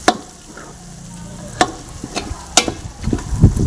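Biryani ingredients being stirred in a pot over a wood fire, with a few sharp scraping strokes spaced apart and a low rumbling bubble building toward the end.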